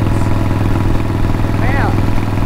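A Harley motorcycle fitted with open drag pipes runs with a deep, loud, rumbling exhaust throb held close and steady, and a voice may be speaking over it.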